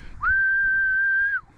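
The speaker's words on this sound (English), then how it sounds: "the whistle" A dog training whistle blown once for a Griffon puppy: one loud, steady, high-pitched blast lasting just over a second, clear above faint background noise.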